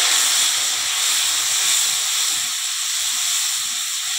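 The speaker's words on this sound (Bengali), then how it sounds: "বেটে রাখা পেঁয়াজ আর রসুনটা দিয়ে দেবো" Onion and garlic paste hits hot oil in a pan while cooking a fish curry, giving a steady, loud, continuous sizzle that fills the whole stretch with no talk over it.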